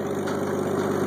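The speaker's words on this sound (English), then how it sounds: "with International 656 tractor and a New Holland 260 hydraulically driven rake" An International 656 tractor runs steadily while pulling a New Holland 260 hydraulically driven hay rake in a grass-clover field in Minnesota, a loud, even engine drone close by with no talk.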